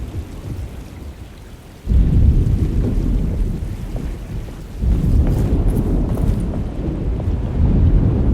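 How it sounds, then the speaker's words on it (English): A thunderstorm in the Alone in the Dark video game brings steady heavy rain with deep thunder rumbles that surge loud near two and five seconds, with no voices. "Just keeping an eye out for the storm."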